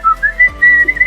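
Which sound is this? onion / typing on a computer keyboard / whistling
whistling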